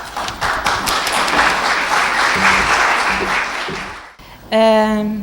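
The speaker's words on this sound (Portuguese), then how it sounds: "Um aplauso." Sustained applause from a lecture audience, a dense wash of clapping lasting about four seconds before fading, followed briefly by a voice.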